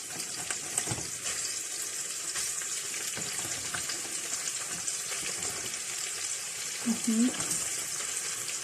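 Minced meat sizzles in a frying pan as it is tossed in, a steady frying hiss with a louder spatter near the end, under two people talking.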